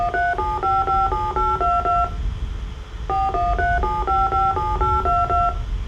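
Program-generated DTMF telephone keypad tones play in two bursts of rapid dual-tone beeps with a short pause between, loud and steady.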